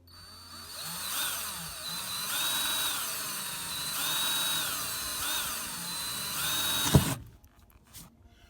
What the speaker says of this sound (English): So I'm drilling in my rig again.